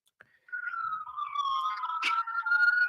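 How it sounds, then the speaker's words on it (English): A siren wails steadily, rising and falling in pitch, fairly loud and sustained with no talking. "The first thing we hear are sirens"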